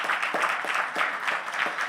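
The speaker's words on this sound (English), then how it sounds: "We have to give them all a round of applause." An audience gives a round of applause at a public policy forum. The clapping is moderate and continuous, with soft, even claps blending into a steady patter.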